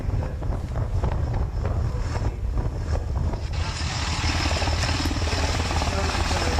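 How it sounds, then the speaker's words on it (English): A helicopter arrives for a medical evacuation, its steady rotor and engine roar filling the scene with constant wind buffeting, the noise growing broader and louder toward the end. "There's a chopper coming in, medevac out."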